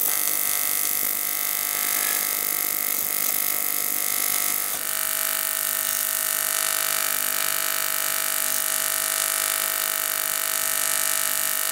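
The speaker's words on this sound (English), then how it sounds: "I'm about to TIG weld in this insert." TIG welding a metal insert into a custom outboard trim and tilt unit for a 30hp motor: a steady, close electric buzz and hiss runs continuously, shifting tone slightly partway through, with no talk.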